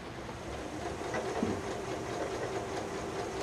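A sewing machine stitches a pineapple quilt block along a line, giving a continuous, even mechanical whir with fast rhythmic clatter, close and moderately quiet, with no talk.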